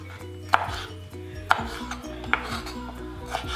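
Vegetables cut straight into even cube-like pieces on a board for chilli chicken, with about four sharp knife knocks spaced roughly a second apart over a low steady hum.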